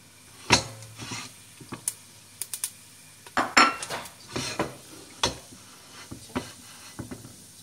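Whole cloves and peppercorns for a spicy Indian biryani tipped into a cooking pot, with a sharp opening clatter followed by scattered metallic clinks, scrapes and light knocks, close by and fairly quiet, with no talk.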